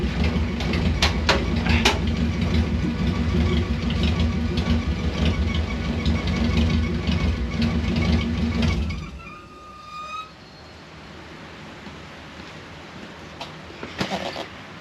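A Subaru-powered 1974 VW Bus engine idles loud and steady at close range, then shuts off partway through, leaving near silence with faint chirps and a few light knocks.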